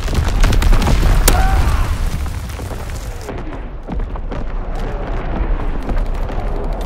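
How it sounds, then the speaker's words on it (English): Mortar artillery barrage in Call of Duty WWII, a dense run of heavy booming explosions rolling one after another, loud and close, easing slightly partway through before rumbling on. "Firing battery one. Target position confirmed. Sending mortar out."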